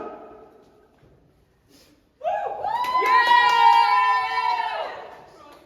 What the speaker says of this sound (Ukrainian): Аплодисмент!